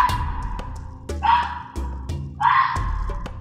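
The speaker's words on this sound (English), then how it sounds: "Arctic fox." An Arctic fox gives two or three sharp, yelping barks at close range, with short pauses between them and no other sound around them.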